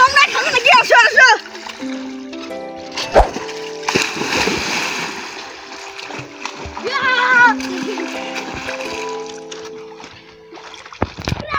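Splashes of people diving and playing in a river, loud splatters and water churning close by, with children talking and shouting throughout.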